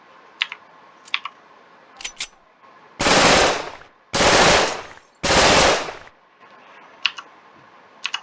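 An inaccurate gun fires in the video game Warium: three sustained bursts of rapid automatic fire, each about a second long, separated by short pauses with faint clicks in between.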